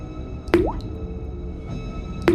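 Blood drips from hanging headless corpses in a haunted house horror cartoon: two distinct wet drip-plops, about two seconds apart, each with a short rising squish, over a low, quiet background.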